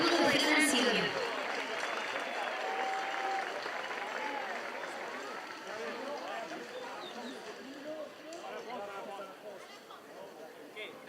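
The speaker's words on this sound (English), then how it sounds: "Big round of applause for Team France" Outdoor crowd applause at a surfing competition medal ceremony for Team France, moderately distant and steady, with crowd chatter and voices running through the clapping.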